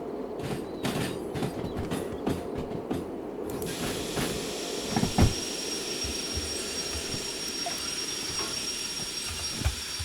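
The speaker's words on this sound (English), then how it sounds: "Train's just coasting." Steam locomotive coasting on rails in the Derail Valley train simulator: a steady rumbling roll, with rhythmic clicks early on, a hiss of steam that rises after a few seconds, and occasional clanks, continuous and moderately loud.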